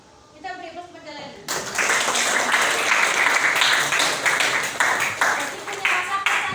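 A classroom of students claps together after a teacher's brief talk, the applause starting suddenly and continuing as a fairly loud, dense patter with some voices mixed in.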